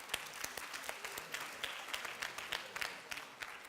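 Applause from a church youth group on Easter Sunday: a room full of steady, crisp clapping with scattered sharper claps, heard from a distance and fairly faint.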